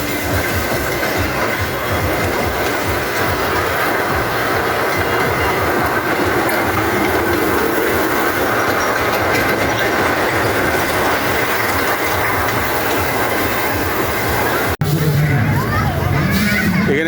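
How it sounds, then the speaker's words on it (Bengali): A park ride train rolls past on a rail track, a loud continuous rumble with clickety-clack of wheels and some metallic squeal, crowd babble and talk underneath, ending in a sudden bump. "এই রেল আসছে।"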